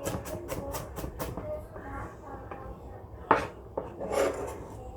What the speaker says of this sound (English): So that's how I chop up the onion.